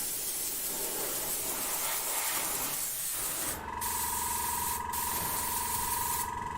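An airbrush sprays paint onto a waterfall diorama, first as a soft continuous hiss, then joined by a louder compressor-like drone with short breaks as the spraying stops and starts, and no voices.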